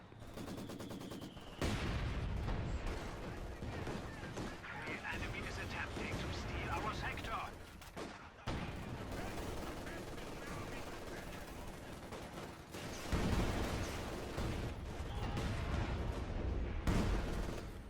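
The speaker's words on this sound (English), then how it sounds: "we hear the mortars just taking shots randomly" Mortars and other weapons firing in the wartime strategy game Company of Heroes 2, with steady distant booms and crackling gunfire running under continuous commentary throughout.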